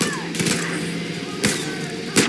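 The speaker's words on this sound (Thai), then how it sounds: "นั่นไง กูยิงเลย" Gunfire in the game Far Cry New Dawn, with three sharp, loud shots spaced apart over a steady background hum.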